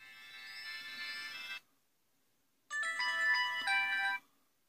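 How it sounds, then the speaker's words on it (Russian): A W90 smartwatch phone plays its message ringtone at maximum volume: a bright electronic tone sounds for about a second and a half, then after a pause a second short melodic phrase of distinct beeping notes rings out, with no talking. "Мелодия сообщения."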